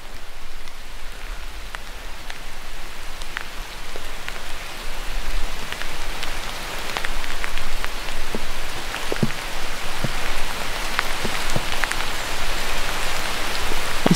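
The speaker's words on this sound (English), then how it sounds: "It's starting to rain." Steady rain patters and hisses for the whole stretch, with scattered louder drops ticking nearby and the shower gradually thickening.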